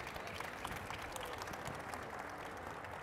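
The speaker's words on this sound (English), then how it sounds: "A round of applause to our speakers." Audience applause for panel speakers at a business and leadership show, a steady wash of many hands clapping at moderate volume for the whole stretch, without speech over it.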